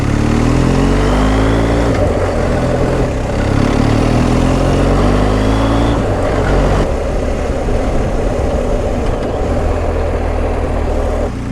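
A BMW GS1250 Adventure motorcycle riding on roads in the sunny Peak District gives a steady, loud engine drone with wind rush throughout and small shifts in revs, and no talk.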